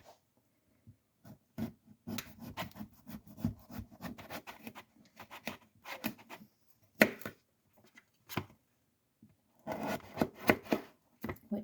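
A knife cuts potatoes into wedges on a board in close, quiet, irregular strokes and thuds, with pauses between clusters of cuts and a busier run near the end.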